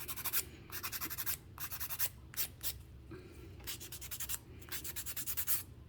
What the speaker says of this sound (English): I'm just going to use my file to kind of go across the top to make sure I get it pretty even